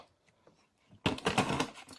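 Scissors snip and tear through the packaging of a holiday-edition mystery power box of trading card packs: faint handling for a second, then a loud, dense burst of cutting and ripping close up.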